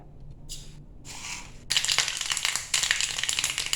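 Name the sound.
mustard seeds spluttering in hot coconut oil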